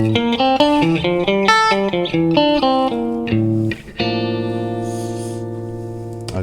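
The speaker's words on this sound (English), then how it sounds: "So playing our Phrygian scale." An electric guitar plays a quick descending-ascending run of single notes in the Phrygian scale with an effects-laden tone, then settles on a long sustained ringing note.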